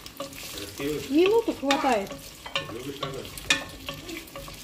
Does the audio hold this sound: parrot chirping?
no